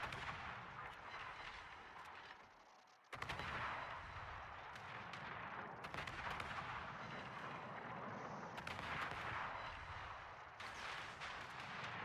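Heavy naval guns boom repeatedly during a World of Warships battle, as a dense, rumbling barrage with sharp onsets over continuous loud game noise and no talking.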